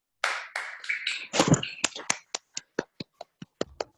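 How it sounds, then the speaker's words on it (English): A few webinar participants clap after a speaker's remarks, settling into a sparse run of single, evenly spaced claps that thin out toward the end. "We want to do a round of applause and shout out of thank you to our panelists."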